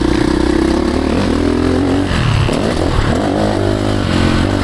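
Ducati Desmo 450 MX dirt bike engine revving loudly and continuously up close on a private track, the pitch climbing and dropping as the throttle is worked, with no talk over it.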